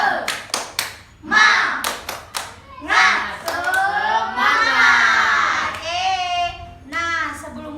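A classroom of primary-school children performs a rhythmic spirit clapping chant, sharp bursts of hand claps alternating with loud chanted and shouted voices, close and energetic.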